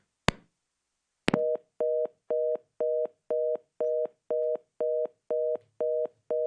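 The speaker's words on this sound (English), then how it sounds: "you'll have to excuse the dial tone" Two sharp clicks on a telephone line after a dropped call are followed by a regular repeating tone, about a dozen evenly spaced beeps with short gaps, clear and alone.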